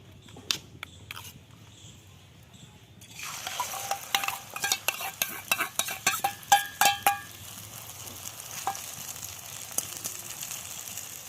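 Egg and potato mixture hits a little hot oil in a wok, bursting into a bright sizzle with scraping stirs and clinks of a utensil, the frying settling into a steady crackle after a quiet start.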